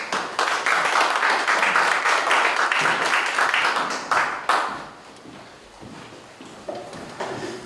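An audience applauds steadily at a Korean church pastors' forum as a pastor walks to the stage, loud dense clapping that fades after a few seconds into scattered claps and room noise.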